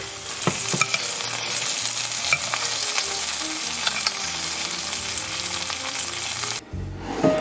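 An oyster mushroom cluster steak sizzles and fries in a pan, a steady, loud crackling hiss with scattered pops that runs for several seconds, then cuts off abruptly near the end.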